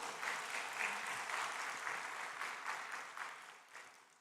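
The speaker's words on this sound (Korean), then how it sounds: "우리 하나님께 영광의 박수" Church congregation applauding during a Sunday worship service, a steady wash of many hands clapping that holds for about four seconds and tapers slightly at the end, with no voices over it.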